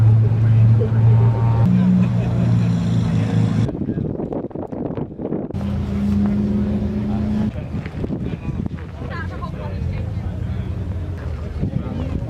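A Noble car fitted with a red top C20 turbo engine at a classic car show at Mallory Park race circuit gives a loud, close, droning engine note that shifts in pitch, with voices around it.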